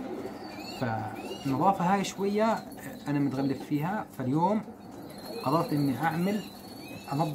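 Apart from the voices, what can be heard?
pigeons cooing on a rooftop loft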